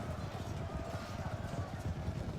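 Massed cavalry horses in the Westeros: Total War battle game make a dense, busy patter of galloping hooves at moderate volume, with someone commentating over it.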